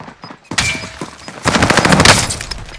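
Automatic AK-47 fire in a Call of Duty Warzone match on Rebirth Island, a short gap then loud sustained bursts of rapid shots with crackling impacts, close and dominant.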